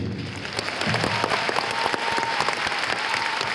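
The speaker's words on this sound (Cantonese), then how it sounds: "啲掌聲" An audience claps at a live concert, a dense, steady burst of applause from a large crowd lasting the whole few seconds.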